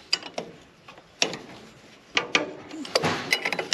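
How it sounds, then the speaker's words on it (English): Scattered close clicks and metallic ticks as an eye bolt on a baler stuffer trip arm is turned a couple of turns by hand, sparse and uneven with short gaps between them. "We're going to hold this eye bolt and we'll just turn it a couple of turns."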